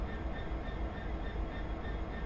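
A simulated train in Train Simulator 2016 pulls away under power, a constant heavy rumble with a faint tonal whine, loud and unbroken through the short stretch.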